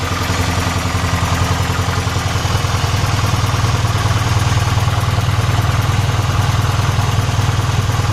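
A 1986 Mercedes 190E Cosworth with a newly replaced ignition system idles while warming up, its engine a steady, close, low rumbling drone with a faint rhythmic clatter throughout and no talking.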